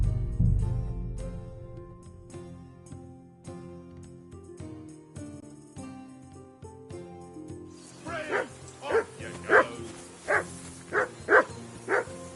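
A dog barks in Kingdom Come, a string of sharp, fairly close barks in steady rhythm after a quieter stretch of music and clatter at the start.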